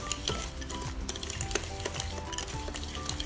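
Butter and sugar are mixed in a bowl, giving close, busy scraping and clinking of a utensil against the bowl in quick repeated strokes, with no talking.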